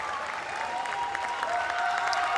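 Home crowd at the 2025 Koper World Challenge Cup men's floor exercise applauding and cheering after a gymnastics routine, a sustained wash of clapping and shouts filling the arena at steady volume.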